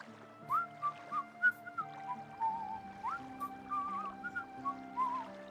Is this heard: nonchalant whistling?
yes